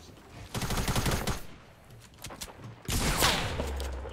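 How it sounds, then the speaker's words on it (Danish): Many players fire at once in Fortnite: two dense bursts of rapid, crackling gunfire, the second heavier and sustained, separated by a brief lull of scattered shots. "Så bliver man skudt af 20 mennesker. 20 mennesker på en gang."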